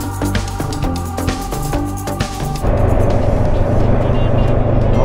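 Heavy road traffic with many vehicles during a solo motorcycle ride toward Banaue, Ifugao, a dense, loud, steady wash of engines and tyre noise that grows fuller and rougher partway through.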